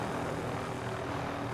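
A video game helicopter drones with a steady, dense rotor and engine roar, loud and continuous, with no other sounds over it.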